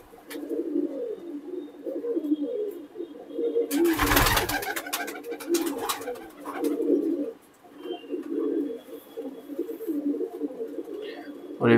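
Fancy Dubwalay and Teedy pigeons coo steadily and close by, with a loud flapping or rustling burst midway and someone talking over part of it.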